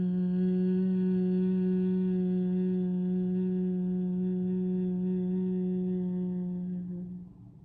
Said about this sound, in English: Close the ears and hum.